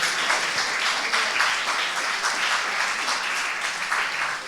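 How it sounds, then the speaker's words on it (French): An audience applauds warmly at the close of a public debate on European security. Steady, dense clapping from many hands fills the whole stretch, loud and continuous with no voices over it. "On les applaudit"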